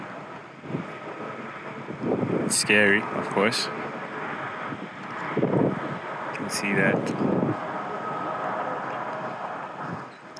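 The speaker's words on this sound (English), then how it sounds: "And it's very windy." Strong wind buffeting the microphone at the base of a suspension bridge tower, with gusty rumbling throughout and people speaking over it.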